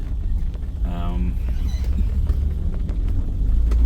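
A low engine rumble from a BMW 325is EVO1 with a tuned 2.9L stroker engine runs continuously beneath a brief voice, with the droning exhaust growing slightly louder toward the end.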